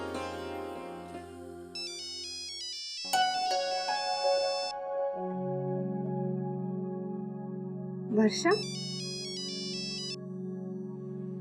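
A phone ringtone plays a repeating electronic melody in short bursts, stops, then rings again near the end over a low background tone, with a brief voice calling out in between.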